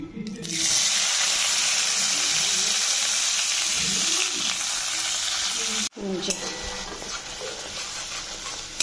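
Fish sizzles loudly in hot oil in a pan, a dense, close hissing crackle that holds for several seconds before cutting off abruptly and returning as a quieter, uneven frying sound.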